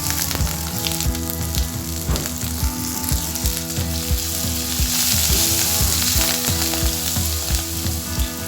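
Green chillies and curry leaves tempering in hot oil give a loud, steady sizzle and crackle with frequent small pops, close up and continuous throughout.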